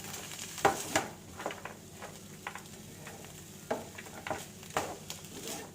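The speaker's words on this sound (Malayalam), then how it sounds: "Green peas 1 cup green peas ആണ് ഞാൻ ഇവിടെ ചേർക്കുന്നത്. ഇതൊന്ന് മിക്സ് ചെയ്ത് കൊടുക്കാം." Green peas stirred into a masala in a pan for paneer mutter masala, with a soft steady sizzle under repeated scraping and clinking strokes of a spoon against the pan, fairly near and moderate in level.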